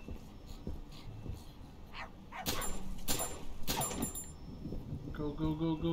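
A dog in the video game My Friendly Neighborhood gives sharp barks and yips mixed with whimpering, loud and close, over game ambience and mechanical noises, without talking.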